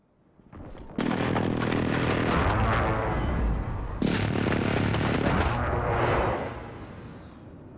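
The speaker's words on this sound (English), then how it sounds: "Enemy precision airstrike, get down!" Two heavy explosion blasts from a precision airstrike in Call of Duty: Modern Warfare multiplayer, each a loud sharp onset followed by a long rumbling roar that fades near the end.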